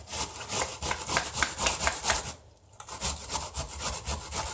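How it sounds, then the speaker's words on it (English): Onion for meatloaf burgers is rubbed across a grater in quick, rhythmic rasping strokes, close and loud, with a brief pause midway before the scraping resumes. "I'm just going to grate this down to where I think there's a chance I might get my hand."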